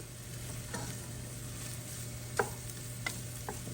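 Burrito filling of small meat pieces frying in a single pan, a steady low sizzle with a few sharp scrapes and clinks of stirring, close and unaccompanied by talk.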